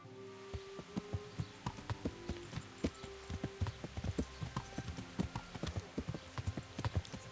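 Rapid, steady horse hoof clip-clops on hard ground in the video game Kingdom Come: Deliverance, a continuous quick trotting rhythm heard fairly close and moderately soft.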